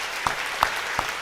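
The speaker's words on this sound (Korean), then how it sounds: "큰 축복의 박수 한번 드리겠습니다" A church congregation at a Sunday worship service with baptisms gives soft, diffuse applause with a few sharper claps standing out, brief and moderately distant.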